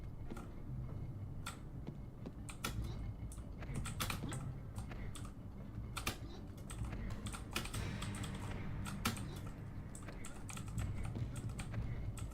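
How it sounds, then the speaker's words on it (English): Rapid, continuous clacking of a mechanical computer keyboard during PC gameplay, close and fairly quiet, with a dense irregular run of keystrokes and no talk. "the sound of my mechanical keyboard going clackety clackety clack"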